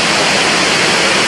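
Steady, dense rushing of Banyu Wana Amertha waterfall in Wanagiri village, Bali, a continuous broadband roar heard alone for just over a second with no voices.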